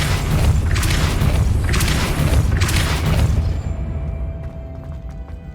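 The Depulso force spell cast in Hogwarts Legacy lets out a loud, booming blast with rolling surges of rumble that lasts several seconds before thinning into a quieter, fading tail.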